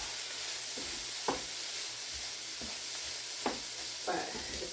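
Cheese frying in a pan, a soft steady sizzle with a few brief stirring scrapes, fairly quiet and close, with no talk.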